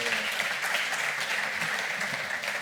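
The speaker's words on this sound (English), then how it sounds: "we can applaud, exactly." Seminar audience at a maritime transport event in Algeciras port applauding in a steady, dense wash of clapping from a large room, loud and continuous with no talk.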